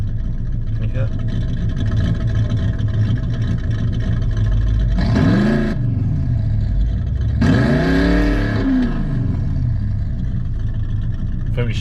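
A simulated V8 Ford Mustang engine from a rev app plays over a car's engine hum, giving two sharp rev bursts that climb and fall in pitch, the second longer than the first.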